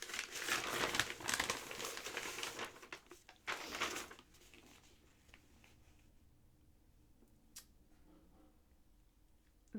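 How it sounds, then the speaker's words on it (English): A framed piece returned from the framer is unwrapped from its packaging, with loud close crinkling and crumpling of wrap for several seconds, then quieter scattered rustles and ticks. "I got this back from the framer, and gotta unwrap it"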